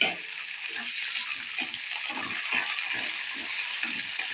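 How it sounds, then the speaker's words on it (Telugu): Peanuts and curry leaves fry in a small pan (kadai), giving a steady, continuous crackling sizzle at moderate level, with faint soft scraping pulses under it and no talk. "పల్లీలు బాగా వేగి కరివేపాకు క్రిస్పీగా అయ్యేదాకా వేయించుకున్నాము"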